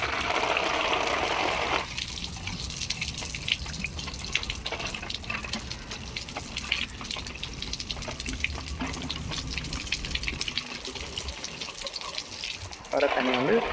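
Water gushes steadily from the outlet of a domestic iron removal plant, a continuous splashing flow heard close up, briefly interrupted by louder rushing bursts at the start and end.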